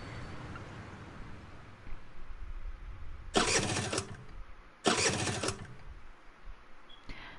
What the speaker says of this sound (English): No matter what he did, the engine refused to turn over.